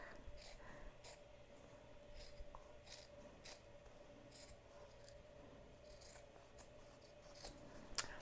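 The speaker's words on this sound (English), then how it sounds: "now I'm gonna go ahead and cut around the back" Scissors cutting through a cotton T-shirt, a series of quiet close snips and fabric rasps spaced irregularly over a faint steady hum, no talking.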